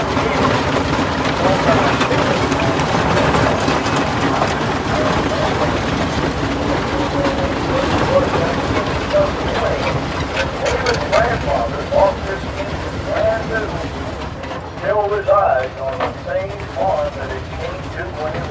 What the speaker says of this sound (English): That's the steam engine. This one is a 1911 horse